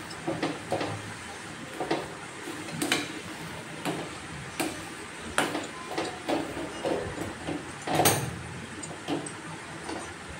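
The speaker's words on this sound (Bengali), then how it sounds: "এইভাবে ভালোভাবে ফেটিয়ে নেব ব্যাকারে।" Salted batter is whisked in a bowl, with a rhythmic series of soft taps and clinks at a steady pace, up close and alone.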